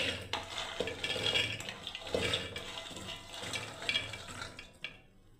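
Water poured over soaked dried peas in a pressure cooker, a continuous close-up gushing and splashing stream that shifts and swells before cutting off near the end.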